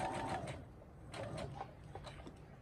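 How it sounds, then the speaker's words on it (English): A Brother SE sewing machine stitching, giving a soft, fairly quiet mechanical whirring hum with rhythmic clicking pulses that rises and falls in short runs, heard alone without talk. "I'm going to start sewing."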